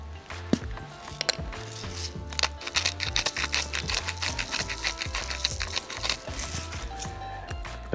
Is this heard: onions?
no